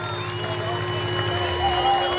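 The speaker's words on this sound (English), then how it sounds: "Let's give them a round of applause." A crowd at a county fair limited-weld demolition derby gives a round of applause, a steady wash of clapping that builds slightly, heard over a constant engine drone and a sustained tone.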